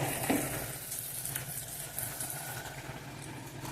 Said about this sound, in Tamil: சின்ன வெங்காயம் நல்லா வதங்கியாச்சு. அதில் புளி விடுறேன்.